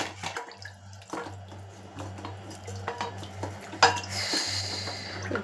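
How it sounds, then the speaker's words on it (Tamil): Cooking pans being washed under running water in a home kitchen, with a steady trickle, soft splashes and a few clinks of metal against the pans, a low hum running beneath and no talking. "இந்த சட்டியெல்லாம் க்ளீன் பண்ணணும்."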